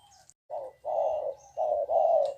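A dove-like bird coos in low, mellow phrases, four rounded calls close together with brief gaps, clear and fairly near.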